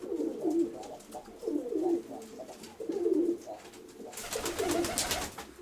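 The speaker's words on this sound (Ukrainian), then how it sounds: "то голубок вже урчить молодий" Young pigeon in a dovecote cooing in close, repeated throaty rolling phrases, with a burst of rustling noise near the end.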